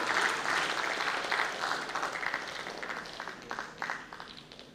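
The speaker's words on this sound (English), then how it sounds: "can you please hear a round of applause for Professor Dr." An audience at a medical conference in Tamil Nadu applauds an award recipient, a fairly faint, dense wash of clapping that thins and fades toward the end.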